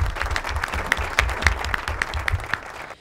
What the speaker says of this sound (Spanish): aplauso para Grama, por favor